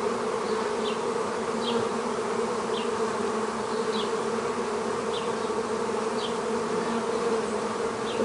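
Honeybees hum steadily in an open hive during a queen check of the third hive body, a dense, continuous buzz close by with occasional louder individual bees passing near.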